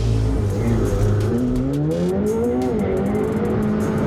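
A McLaren sports car accelerating hard on a long straight road, its engine loud and close, revving up with rising pitch through a gear change as tires hiss.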